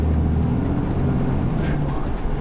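A vehicle engine drones steadily at close range, a low rumbling hum with slight shifts as it changes gear while driving along Peak District roads.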